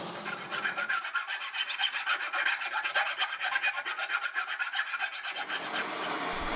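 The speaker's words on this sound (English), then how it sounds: "The weld is then ground smooth and rounded out via sanding on the contact wheel and filing." Steady, loud rasping strokes of a file and sander working a ground weld smooth on armour, a continuous scraping rhythm with no voices.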